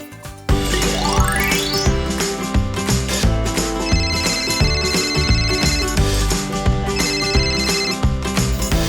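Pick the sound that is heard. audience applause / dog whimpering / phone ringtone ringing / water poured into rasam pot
phone ringtone ringing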